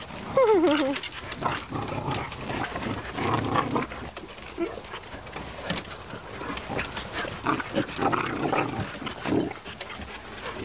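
A Chihuahua whimpers and yelps in high, wavering cries near the start, then gives scattered barks and whines, with people talking over much of it indoors.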